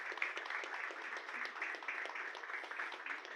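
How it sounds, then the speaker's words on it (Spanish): Church congregation applauding during an inaugural service in Lima, a steady, moderately loud wash of many hands clapping, even and continuous throughout. "Quiero que le brinden un aplauso, pero al Señor."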